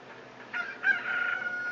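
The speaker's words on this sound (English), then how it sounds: "Hey, a chicken hatched from the egg you're incubating." A chicken crows in the Zelda Ocarina of Time video game, a short rising cock-a-doodle-doo call that swells and holds, clear and fairly loud against a quiet game background.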